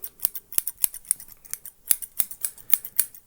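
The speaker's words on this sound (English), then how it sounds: "These scissors, their main job, I will not lie to you, is ASMR and opening cashew nuts." Scissors used for ASMR and for opening cashew nuts snip again and again in a quick, uneven rhythm of crisp metallic clicks, close and clear against silence.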